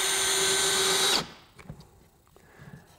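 A Makita 40V XGT brushless 1/2-inch hammer drill-driver on speed one whirs steadily as it drives a small screw into soft wood, then cuts off abruptly, leaving a few faint handling clicks.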